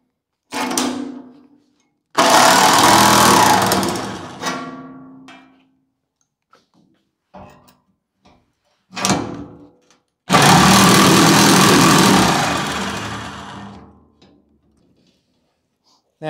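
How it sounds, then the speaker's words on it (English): A nibbler cuts the corners of a steel door on a 250-gallon BBQ smoker build, giving harsh, loud mechanical chattering bursts. Two long runs and a few short ones are separated by quiet gaps. "at this point, I'll go ahead and just nib these corners"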